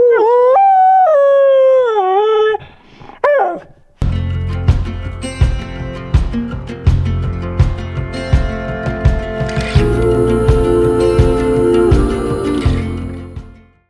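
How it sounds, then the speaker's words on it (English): A husky howls loudly and close in long wavering cries, then gives way to a busy outdoor mix of rustling and clatter with a brief howl returning, recorded during a long-distance backpacking trip. "This past summer we decided to take our husky Bern along"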